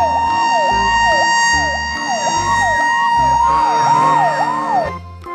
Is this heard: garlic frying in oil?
no